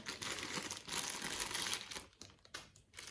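Plastic accessories bag from a Huawei SUN2000-10KTL-M1 inverter being opened, close crinkling and rustling of the plastic with a few sharper crackles as it is handled, quiet and alone.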